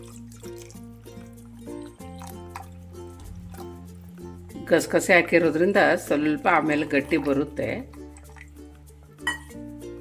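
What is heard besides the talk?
water poured into claypot fish curry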